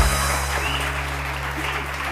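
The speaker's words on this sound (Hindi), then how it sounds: "तालियां बजाओ भाई" A studio audience on a TV morning show applauds in a steady, even wash, with a constant low electrical hum running beneath it.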